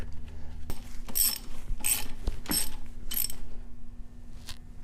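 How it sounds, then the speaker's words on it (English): Motorcycle brake caliper bolts on a Yamaha XS1100 front brake are tightened with a ratchet, giving several short bursts of clicking and metallic ticks separated by pauses, close up with no talking. "Slide the bolts in. Tighten them up."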